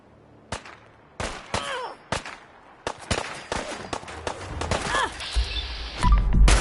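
Fallout 4 combat brings scattered sharp gunshots, single cracks spaced irregularly and then bunched closer together, with some echo, followed by a louder rumbling swell at the end.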